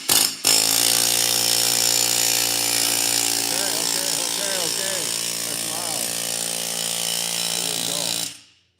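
An air hammer cutting up fiberglass in a workshop, a loud, steady, buzzing rattle running close for about eight seconds before stopping abruptly.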